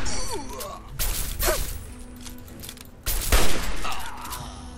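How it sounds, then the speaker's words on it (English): Two loud, broad blasts boom in the Fallout 3 game world, one after about a second and a heavier one near three seconds, each trailing into a rumbling, crackling decay. "Yep, something exploded again."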